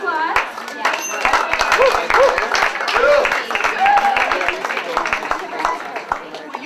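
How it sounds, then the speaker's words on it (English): Applause from an audience at a community gathering for the Boulder co-op market, clapping that swells briefly and then thins, mixed with cheers and scattered talking voices from the crowd. "Let's give him a round of applause."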